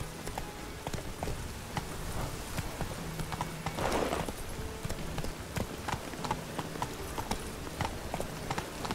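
Roach, the horse in The Witcher 3 video game, trots steadily with rhythmic clip-clop hoofbeats, close and clear over a low ambient bed, with a louder burst of movement midway.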